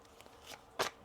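A deck of tarot cards is shuffled by hand during a reading, giving faint soft riffles and then two sharper snapping bursts near the end, close and otherwise quiet.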